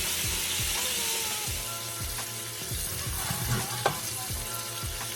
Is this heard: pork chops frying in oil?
yes